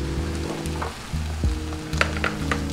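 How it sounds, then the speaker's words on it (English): Brussels sprouts sizzling and frying in a hot pan as balsamic vinegar is added to deglaze, a steady close crackle with a low hum underneath and a few sharper spits toward the end. "We're going to deglaze with some balsamic vinegar"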